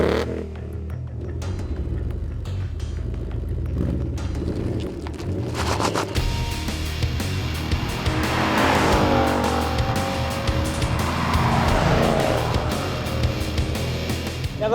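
A 2019 Ford Mustang GT with its 5-litre V8 drives hard, the engine roaring loudly as it builds revs, with tyre squeal and a rising engine note in the second half.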